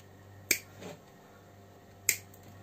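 Two sharp, quick clicks about a second and a half apart from pliers tightening string on pancetta, close and crisp against a quiet background hum.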